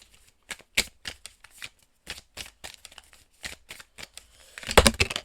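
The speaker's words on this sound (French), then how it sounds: "je vais prendre ensuite une carte de motivation et d'inspiration" A deck of motivation and inspiration cards being shuffled by hand close up, a series of short papery riffles and flicks ending in a louder final riffle.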